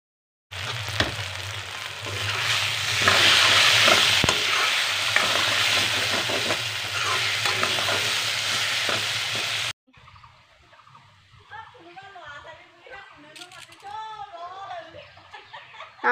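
Mixed vegetables, including bitter gourd, bottle gourd, cucumber and sour garcinia fruit, fry with a loud, steady sizzle and scraping stirs for about ten seconds, then cut abruptly to a quieter scene with voices talking and light laughter.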